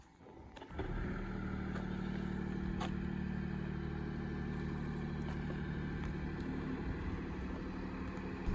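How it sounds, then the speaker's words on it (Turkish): Petrol engine of a Nissan Qashqai e-Power running as a generator, a steady low drone with faint clatter that starts after a brief quiet moment and holds continuously. "Benzinli motorun jeneratör gibi çalıştığında yine hissedebiliyorsunuz"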